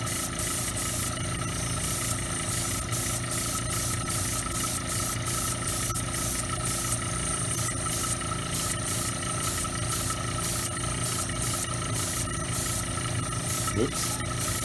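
Airbrush-style sprayer hissing steadily and fairly faintly as a thinned paint mixture is misted onto a leather shoe, with a continuous motor hum and short bursts.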